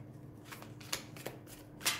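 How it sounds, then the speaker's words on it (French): A deck of tarot cards is shuffled and cards drawn, giving soft riffling flutters and several crisp card snaps, close and quiet with no talk. "Je vais attraper 4 cartes."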